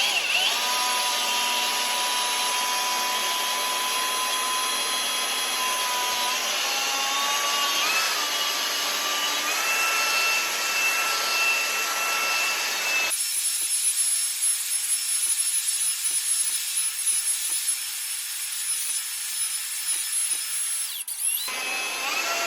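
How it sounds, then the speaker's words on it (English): A power drill fitted with a paddle mixer whirs steadily, churning Novacolor Marmorino KS lime plaster in a bucket. The motor holds a loud continuous whine with small pitch shifts, then the mixing tone changes partway through. "So I'm gonna paddle mix it and then start applying it. I have a drill, paddle mixer."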